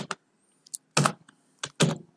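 Computer keyboard typing in short clustered bursts of keystrokes separated by brief pauses, close and fairly clear with no talking.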